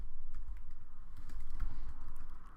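Typing on a computer keyboard, a steady run of quick keystrokes close by, filling the short stretch with no talk over it.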